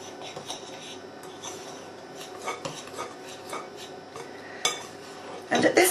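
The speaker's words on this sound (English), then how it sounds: "Use a knife and just stir that in." A knife stirs scone dough in a bowl, giving soft scraping and light clinks of metal against the bowl sides, irregular and close, with a louder clatter near the end.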